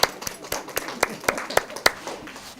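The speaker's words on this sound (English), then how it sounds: "Let's give them a big round of applause." Audience applause at a Torah lecture held in memory of a rabbi of Tsfat, with distinct rhythmic claps standing out from a lighter spread of clapping hands, fairly close and steady.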